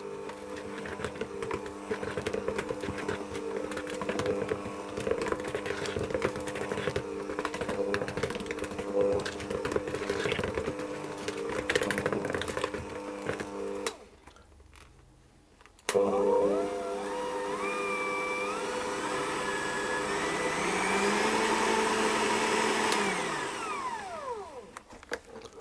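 Electric hand mixer whirring steadily through cake batter as the last of the flour is blended in for a lemon sandwich cake, a loud continuous motor drone with a short pause midway before it resumes.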